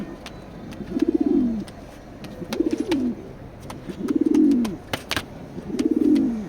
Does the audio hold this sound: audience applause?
no